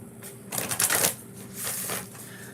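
Close-up tarot card shuffling comes in two rustling bursts, a sharper riffle followed by a softer, longer one, with no voices.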